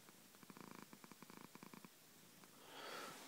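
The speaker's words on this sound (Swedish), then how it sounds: "Det var min katt Trixie som tycker det är väldigt spännande med den här tävlingen" A house cat purring up close, a soft rhythmic rumble of pulsing breaths that fades into a faint hiss.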